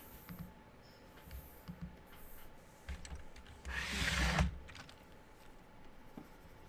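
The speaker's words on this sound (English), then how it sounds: "Excuse me for the paper sounds." Crinkly rustling of paper bills in a short burst near the microphone, over faint scattered taps and handling noises.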